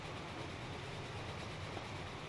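Mallard steam locomotive racing along the track in Transport Fever, a steady loud rolling rumble with faint clickety-clack, continuous throughout.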